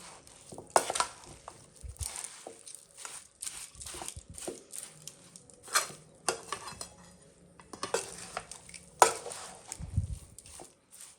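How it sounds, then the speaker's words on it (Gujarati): A spoon stirs gundar pak, a thick mixture of edible gum, jaggery and spices, in a pan with repeated scraping strokes and sticky clinks against the metal, steady and close, with no voices. "બે થી 5 મિનિટ સુધી આ રીતે મિક્સ કરતા રહેવાનું, એટલે ગુંદર, ગોળ અને બધા મસાલા એકબીજા સાથે મિક્સ થઈ જાય"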